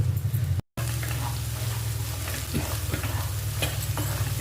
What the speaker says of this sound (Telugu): అల్లం వెల్లిపాయ పేస్ట్ కొంచెం పచ్చి వాతావరణం పోయే వరకు వేయించుదాం